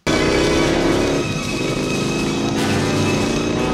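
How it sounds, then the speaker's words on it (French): A loud motorcycle engine from a chase scene in the film Robocop 2 (1990) roars steadily, its pitch shifting as it revs and drops, with dense mechanical noise throughout. "On a le droit ensuite à une poursuite entre Robocop à moto, oui, il monte sur une moto, et Caïn"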